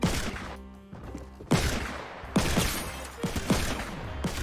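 Gunfire from the Kiri 78 weapon in a video game, several loud bursts and sharp shots in quick clusters, close and dense with no voices over them.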